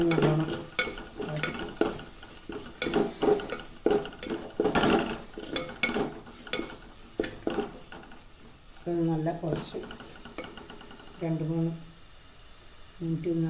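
Onion and half a ground tomato paste being stirred in a curry pan for green chicken curry, with repeated scraping strokes and a light sizzle running under near continuous talk.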